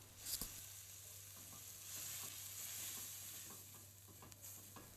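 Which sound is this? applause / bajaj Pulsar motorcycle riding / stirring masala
stirring masala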